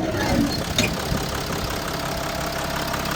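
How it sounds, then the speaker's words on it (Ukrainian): A 3.0-litre 2015 Mercedes Sprinter refrigerated van with an automatic gearbox idles with its hood open, giving a steady, close engine hum with a faint knocking texture and no other noises. "Мотор працює ідеально."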